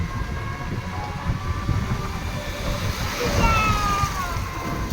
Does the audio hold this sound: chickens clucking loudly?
no